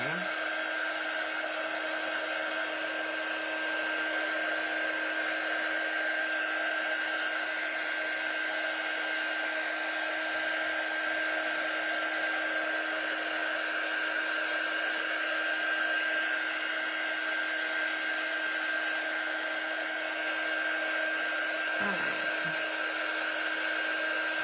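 A hair dryer blows steadily to dry paint on a sign, a constant close whine and rushing hum that holds without a break throughout.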